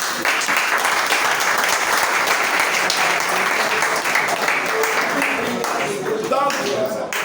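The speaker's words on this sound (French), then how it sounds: "je voudrais qu'on vous applaudisse." An audience at a general assembly and cup ceremony gives loud, sustained applause close by, a dense continuous clatter of hands with a few voices rising near the end.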